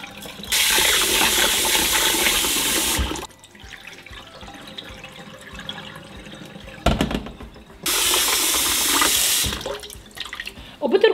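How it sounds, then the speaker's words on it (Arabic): Running water pours into a bowl of rice as it is rinsed, in two long loud bursts separated by a quieter stretch with a brief splash. "بوعاء بحط كوب وربع من الرز وبغسله كذا مرة لتصير مية الغسيل شفافة"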